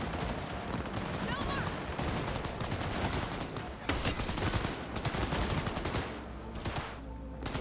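Dense bursts of gunfire crackle through a chaotic firefight in Cyberpunk, rapid shots overlapping nearly nonstop at loud, close range, with a voice talking beneath the shooting.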